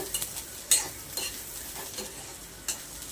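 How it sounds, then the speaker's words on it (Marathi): Garlic sautéing in a pan for a spicy Konkani-style egg curry masala gives a soft, steady sizzle with a few brief scraping stirs of a spoon against the pan, close and fairly quiet, with no voices. "आता आपण ह्याच्यामध्ये घालूया लसूण सुद्धा 1 मिनिटासाठी आपल्याला परतून घ्यायचे"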